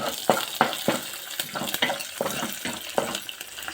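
Chana dal and urad dal frying in a pan for a chutney powder, with a steady sizzle broken by rhythmic stirring scrapes about every third of a second, close and alone.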